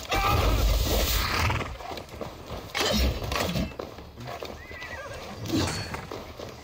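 A horse whinnies loudly near the start in Assassin's Creed Valhalla, followed by hooves clopping and scattered thuds, with another neigh later on.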